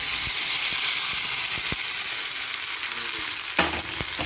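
Chana dal, urad dal, mustard seeds, dried red chillies, curry leaves and garlic cloves sizzle in hot oil for a chutney tempering, a steady dense frying hiss with a few sharp pops and crackles.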